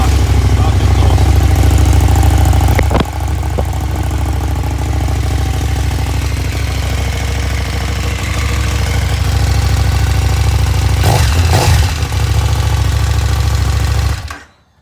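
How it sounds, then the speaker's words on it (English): Stock-exhaust 2016 KTM Super Duke GT motorcycle engine idling steadily up close, a continuous loud low rumble with a brief dip near three seconds and a short burst around eleven seconds before cutting off at the end. "This is stock. Stock exhaust."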